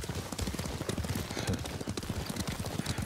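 Rapid, rhythmic hoofbeats of a galloping horse in Ghost of Tsushima, a samurai video game, thud continuously and close up under faint ambient game sound.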